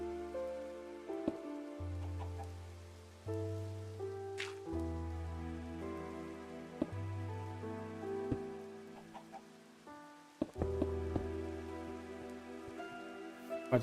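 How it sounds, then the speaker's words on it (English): Minecraft rain falls as a faint, continuous hiss during a thunderstorm, buried under game music notes, chicken clucks and sharp clicks of blocks being placed, with no voices. "It's raining. With thunderstorms,"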